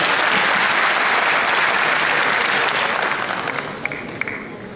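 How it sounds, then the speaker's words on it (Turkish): A hall full of people applauding at a chamber general assembly, a thick continuous burst of clapping that thins out toward the end, with a few sharper individual claps. "bir daha alkış verelim"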